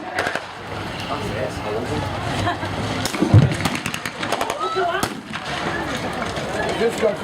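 Gunfire at a Normandy battle reenactment during a 1940s war weekend: sharp, cracking bursts from a machine gun in the open, a few to mid-distance, with heavy crowd and outdoor noise filling the background.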